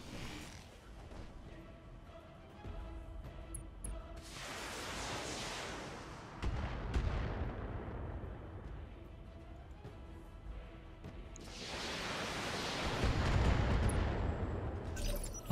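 Weapons firing at targets in the BattleTech mech game, two long rushing bursts of booming, roaring blasts that swell and fade, separated by a quieter stretch with a low background drone.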